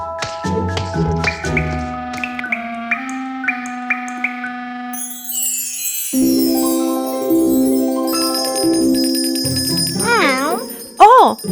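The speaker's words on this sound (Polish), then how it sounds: "Ktoś do nas dzwoni!" Cartoon doorbell or phone chime ringing to announce a caller, bright tinkling bell tones over playful music and sound effects, with children's cartoon voices talking.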